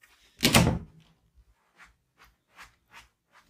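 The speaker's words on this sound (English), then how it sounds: "Close the door." A room door is pushed shut with one loud wooden thud and rub near the start, followed by a few faint knocks and small clicks as it settles.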